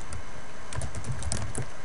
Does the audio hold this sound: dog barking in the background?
no